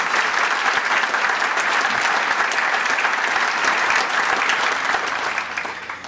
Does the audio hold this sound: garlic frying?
no